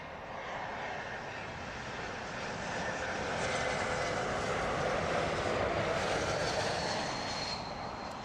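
A distant airliner banks onto final approach at London Heathrow Airport, its engines giving a broad, steady roar that swells gently and then holds, with no voices.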